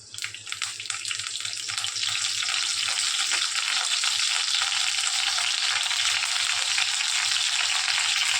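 Curry leaves fry in about two to two and a half spoons of hot oil in a pan, a loud, steady crackling sizzle that starts almost at once and holds unbroken throughout, with no talking.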